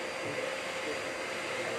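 A Japanese hair salon's built-in floor vacuum system draws swept cut hair into a floor opening, giving a steady, loud whooshing suction roar that stays even throughout.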